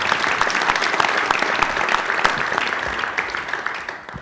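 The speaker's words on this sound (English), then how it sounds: "So round of applause, let's welcome our amazing panelists here today." A panel event audience applauds to welcome panelists, steady dense clapping throughout, close and full, fading slightly at the very end.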